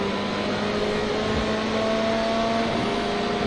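Ferrari GTE race car engines at Interlagos in iRacing, a steady, loud engine drone with sustained tonal whine, cars running close together in a continuous roar.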